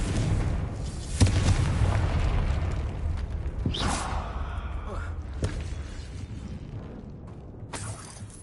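In the video game Hogwarts Legacy, a Confringo spell's explosion booms amid dense, rumbling game sound effects, with a few sharper blasts and whooshes following over a steady noisy backdrop.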